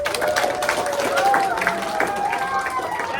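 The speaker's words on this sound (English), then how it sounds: "So let's give them a round of applause." A roomful of listeners at a Boy Scout presentation on wildfire awareness claps in a round of applause, a steady mix of many hands with a few voices and light cheering underneath, moderately loud and continuous.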